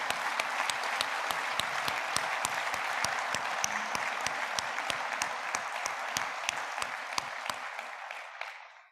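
A crowd at a trade union congress applauding in a long, steady ovation, with a dense wash of clapping and a sharp, regular beat of rhythmic claps that fades out at the end.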